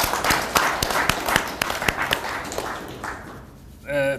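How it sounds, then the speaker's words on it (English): Scattered claps ring out at a launch event for a bulletin, a few sharp hand strikes spaced irregularly, thinning over a few seconds before a voice begins at the end. "Let's clap for the team once again."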